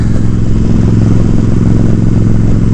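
Loud, steady drone of a Suzuki Boulevard S83 1400cc motorcycle engine at cruising speed, close to the microphone, with a low pulsing rumble and faint rattling throughout.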